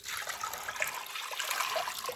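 Water pours steadily into a slow cooker holding peeled, sliced carrots for ham and white bean soup, a continuous close trickle and splash with no talking.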